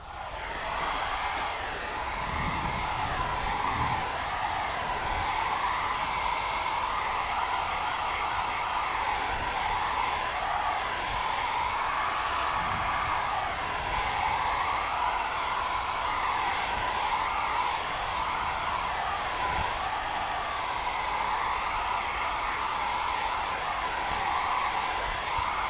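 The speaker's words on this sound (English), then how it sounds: "I will open my heat gun" A heat gun blows with a steady, loud whirring hum and hiss that continues without a break.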